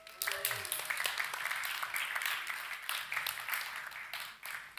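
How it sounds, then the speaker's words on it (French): A church congregation applauds the reader Coralie with a brief, moderately loud burst of clapping, faint voices mixed in underneath. "On peut applaudir Coralie."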